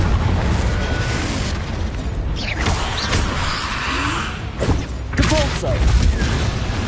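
A Confringo blasting spell explodes in Hogwarts Legacy, giving dense rumbling booms with a few sharper bursts late on, loud and continuous against the game's busy combat noise.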